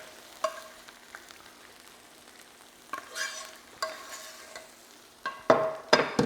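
Spice paste frying in a hot pan, spitting in sharp bursts with stirring scrapes, quiet at first and then growing louder, with heavy crackling clusters toward the end.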